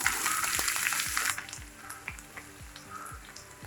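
Thinly sliced onions hit hot coconut oil for a Kerala chicken dish, starting with a loud burst of sizzling that settles into a softer frying hiss, with repeated low knocks underneath.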